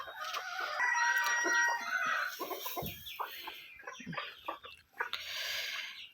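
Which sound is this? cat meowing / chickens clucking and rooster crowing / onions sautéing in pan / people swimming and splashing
chickens clucking and rooster crowing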